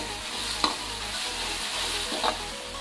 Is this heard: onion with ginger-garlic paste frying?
yes